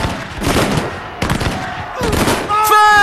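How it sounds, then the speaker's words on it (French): Musket volleys in a Waterloo battle reenactment, several sharp bursts of gunfire crackling in ragged clusters, loud and close, followed by a rising tonal sound at the end. "les premiers coups de feu retentissent"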